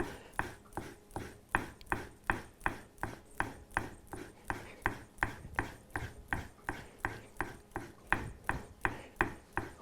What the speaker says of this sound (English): Flip over, one quick pull onto your strop.